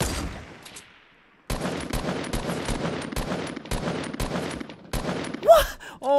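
Gunfire in a Fortnite gunfight, rapid close bursts of shots firing in irregular clusters after a brief quiet gap, loud and sustained, ending with a whooshing game effect.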